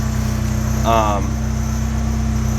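A turbocharged Nissan S14 engine running on a dyno, a steady droning hum with a brief voice speaking over it.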